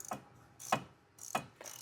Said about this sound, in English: I used a 32mm oil filter socket to remove that filter housing